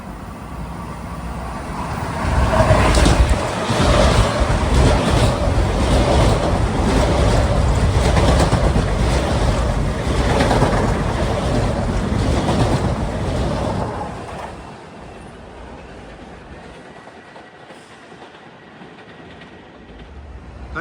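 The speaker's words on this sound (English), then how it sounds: "That train 1998 is a Ryder Cup special, headed to Farmingdale where he'll terminate." Long Island Rail Road train 1998, a Ryder Cup special, passing eastbound through Queens Village, loud and close with rumbling wheels and rhythmic clickety-clack, then fading to a quieter rumble as it moves away.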